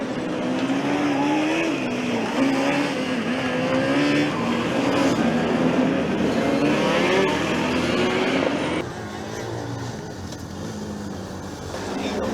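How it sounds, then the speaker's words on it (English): A Formula Student race car at the Formula Student Germany endurance event revving loudly and steadily nearby, its engine note rising and falling, then dropping in level toward the end. "I can hear car number 330 from Akron, Akron Zips Racing, firing up behind us."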